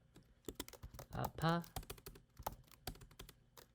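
Fingers type on a computer keyboard during Photoshop text entry, giving a string of quiet, close key clicks in an uneven rhythm with a brief burst in the middle.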